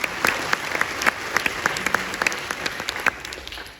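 Applause from a congress audience after an opening speech, a dense, steady clapping of many hands filling the room, fairly loud and continuous with a few sharper individual claps standing out.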